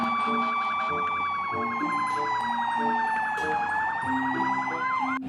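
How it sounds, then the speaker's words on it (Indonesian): A red toy ambulance wails with a continuous electronic siren, its pitch sweeping up and down in a loud, close, steady cycle while a toy beat pulses underneath. "Wow, ini mobil ambulan."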